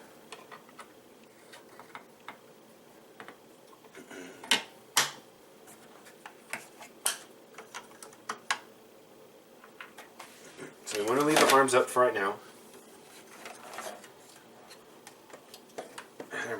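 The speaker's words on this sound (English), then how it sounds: "the ratchets are tight, but when they break loose, they go" Ratchet joints on a Transformers Titans Return Fortress Maximus toy click in short sharp ticks and one longer burst of rapid clicking, close and moderately loud, while someone talks between them.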